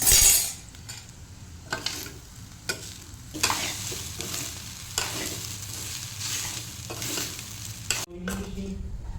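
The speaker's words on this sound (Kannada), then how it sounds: "ಇವಾಗ ಕಟ್ ಮಾಡಿದಂಥ ಪತ್ರೊಡೆಯನ್ನು ಹಾಕ್ತೇನೆ." Cut patrode, colocasia leaf rolls, are stir-fried in a tempering, with a steady sizzle broken by repeated scraping and stirring strokes of a utensil against the pan and occasional light clinks, without talk.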